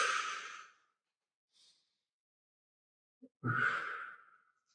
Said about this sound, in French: On souffle glotte ouverte, comme si on soufflait de la buée sur un carreau